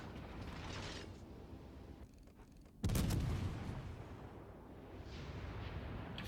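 Naval artillery fire in the video game World of Warships Legends, with distant booming salvos and rumbling, then one heavy close blast near the middle followed by lingering low rumble.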